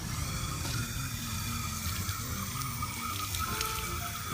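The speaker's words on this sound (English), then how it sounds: "you want to water in your planter real good." Water pouring steadily into a freshly planted fall planter, a continuous splashing rush that stays close and even throughout with no talk.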